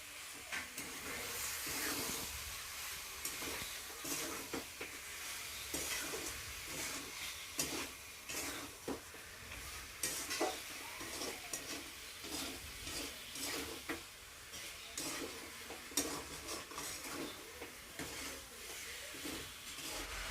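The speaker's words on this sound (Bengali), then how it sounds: "দিয়ে এবার মাংস আর এই মশলাগুলো ভালোভাবে কষবো।" Chicken pieces with spices and salt are stir-fried in a pan, giving a continuous sizzle and hiss broken by repeated scraping stirs at an uneven rhythm, moderately quiet and with no voices.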